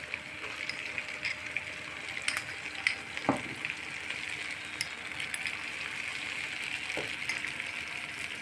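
Ground spices fry in hot oil for a three-kilogram batch of sweet-and-sour mango pickle, a steady, close sizzle broken by a couple of faint clinks of stirring.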